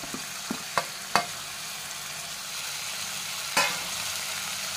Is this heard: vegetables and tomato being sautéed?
yes